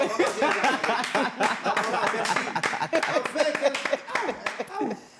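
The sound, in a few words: clapping from the studio control room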